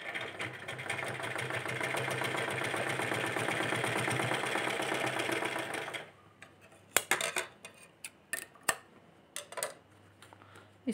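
An electric sewing machine runs steadily for about six seconds, stitching the seam on a cloth face mask with a dense whirring rattle, then stops, leaving scattered clicks and light handling knocks.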